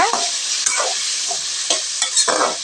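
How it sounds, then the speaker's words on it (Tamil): Tomatoes sizzle in hot oil, with a steady frying hiss broken by several scraping stirs of a spoon in the pan. "தக்காளி இப்போ நல்லா வதங்கட்டுங்க."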